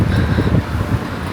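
Strong wind gusts across a Singapore street, buffeting the microphone with a steady low rumble and roar throughout, with no talking.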